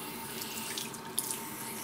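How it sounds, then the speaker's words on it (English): Tap running warm water for a hair wash after a hair transplant, a steady close rush of flowing water with faint drips, no talk. "Now we're using the water."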